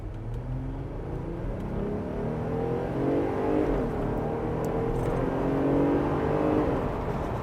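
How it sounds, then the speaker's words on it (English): A lifted 2019 Jeep Wrangler JL Unlimited Sport on big tires accelerates from a standstill, its engine note climbing steadily through the gears with loud, continuous road and drivetrain roar throughout. "Let's do a little acceleration test here."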